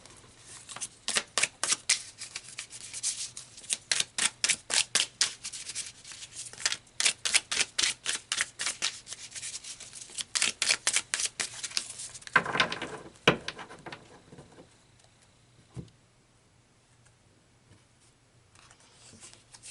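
Tarot cards are shuffled nearby in quick riffling bursts, a run of crisp, papery flutters repeating for about twelve seconds before trailing off into a few soft handling rustles and near silence.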